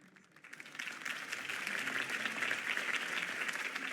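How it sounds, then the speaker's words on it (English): A video game crowd in Batman: The Telltale Series breaks into sustained applause, the clapping swelling quickly from quiet to a steady, dense roar that holds to the end. "could have heard that applause"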